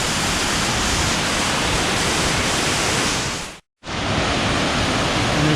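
A waterfall near Guadalupe, Colombia roars as a steady, loud, broadband rush of falling water, with one brief dropout partway through.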